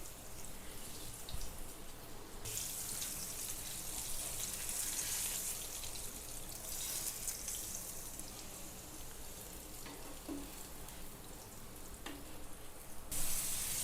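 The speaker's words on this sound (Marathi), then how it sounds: "आता आपण हे फ्राय करायला घेणार आहोत।" Pomfret coated in semolina and rice flour shallow-frying on a tava in hot oil over low heat, a steady close sizzle with crackling pops running throughout, rising and falling slightly, with no voices.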